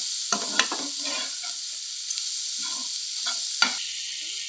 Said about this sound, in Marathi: हे पुन्हा मिक्स मिक्स करून घ्यायचं छानपैकी